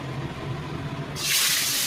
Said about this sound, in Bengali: মাছ ভাজছি।